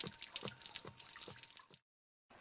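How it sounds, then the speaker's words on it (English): Water draining from a Suburban RV water heater tank through the drain port after the anode rod is pulled, a steady trickling and splashing flow that cuts off abruptly, then resumes faintly. "Once free, remove the rod to allow the water to drain from the tank"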